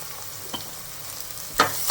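Onions sizzle with salt in a pan for a street-style plain parotta salna, a steady frying hiss broken by two sharp stirring scrapes near the end.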